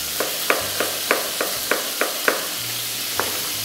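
Chicken fries in a pan for a Kerala-style dish, a steady hissing sizzle with regular light clinks of a utensil stirring, about eight taps in under four seconds.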